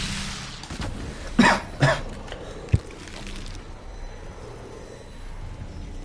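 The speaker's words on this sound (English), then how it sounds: "sorry, I'll try not to cough you to death" Two or three sharp, harsh coughs burst out close to the mic, one after another, over a quiet background hum.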